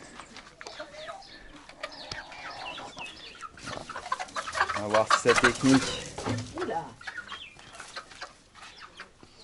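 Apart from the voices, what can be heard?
rooster and chickens clucking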